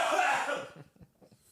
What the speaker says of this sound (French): C'est bon, j'ai dû tousser.